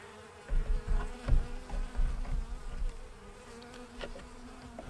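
Honeybees buzz in an opened hive of a small overwintered nucleus colony, a steady close drone that swells and fades in waves over several seconds without any voices.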